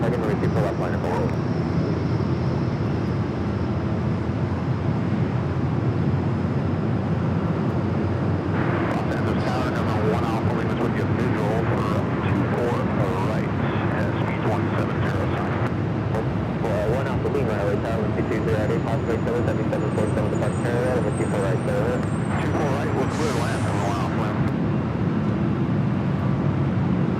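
A heavy jet airliner takes off from the runway at Los Angeles International Airport, a loud and steady engine roar that builds and holds the whole time, while air traffic control radio talk plays over it.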